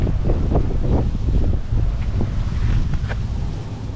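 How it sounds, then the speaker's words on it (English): Wind rushing around a Corvette C7, a broad steady roar with low rumble, loud and constant, easing slightly toward the end, with no talking. "Hope the wind noise ain't bad."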